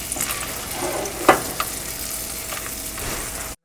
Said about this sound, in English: and let it fry all together